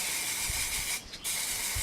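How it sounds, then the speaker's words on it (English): A can of black spray paint hisses loudly and continuously, with a short break in the middle before spraying resumes, heard up close. "simply get a can of black spray paint"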